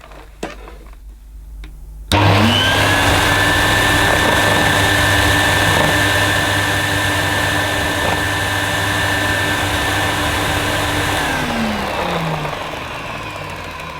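A near-mint 1970s Electrolux 502 upright vacuum cleaner switches on with a sudden jump into a loud, steady motor whine and hum, then winds down toward the end. It runs close by with no talk.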